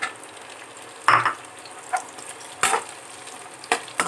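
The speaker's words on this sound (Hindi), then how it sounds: "अब इसमें हम प्याज ऐड कर देंगे" Garlic, ginger and onion fry in hot oil for chilli paneer, a steady sizzle broken by louder bursts as the pan is stirred every second or so.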